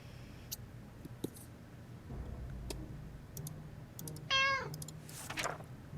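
A cat meows once in the video game 60 Seconds! Reatomized, a clear, rising cry standing out over quiet background clicks and ticks, with a brief fainter sound trailing after it.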